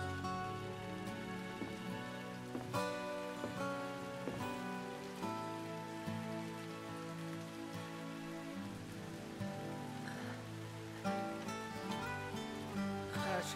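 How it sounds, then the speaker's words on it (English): Rain falls in the video game Crisis Core Final Fantasy 7 Reunion. The soft, steady patter sits quietly beneath a sustained musical score throughout. "It's raining."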